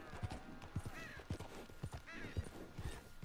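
Rhythmic clip-clop of horse hooves from Red Dead Redemption 2, a steady trotting beat of distinct thuds close by, with faint harness jingles and a soft whinny-like tone in the background.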